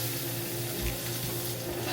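Herbs sweat and sauté in a pan with a soft continuous sizzle, a low steady hiss without breaks and no talking over it.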